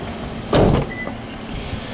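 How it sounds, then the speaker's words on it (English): Electric sunroof motor on a 2013 Lexus ES350 sedan, a brief whirring hum that swells for about a quarter second over steady cabin background noise. "There's your sunroof."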